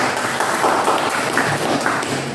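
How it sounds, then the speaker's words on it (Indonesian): A classroom group receives applause, a dense, steady wash of many hands clapping together at close range, sustained evenly throughout without talk. "berikan aplaus untuk kelompok 1"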